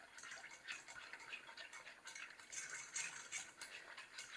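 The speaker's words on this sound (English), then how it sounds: "We're going to stir this until the Jell-O has dissolved." A spoon stirring Jell-O powder into a cup of boiling water, making faint, quick clinks and swishes against the container that repeat steadily and quietly, with no talk.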